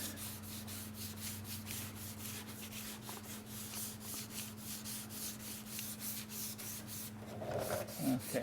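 Sanding block rubbed back and forth over wet car body paint and primer during auto body dent repair, a soft rhythmic rasping in steady strokes, close but fairly quiet over a low background hum.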